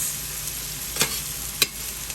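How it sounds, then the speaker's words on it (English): Peppers sizzle softly as they are lightly sautéed in a hot pan, with a couple of sharp scraping stirs from a utensil breaking through the steady hiss. "So I'm like lightly sauteing these or flash frying them."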